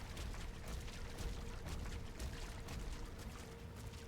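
A waterfall in the video game DOOM The Dark Ages, heard from the top of the falls as a steady, faint rushing wash of water with no talk.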